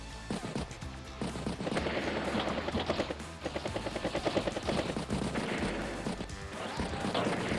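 Gunfire in Advance Wars by Web as a unit attacks infantry: dense, rapid bursts of shots and crashing impacts over a steady rumble, loud and busy throughout with brief dips between volleys.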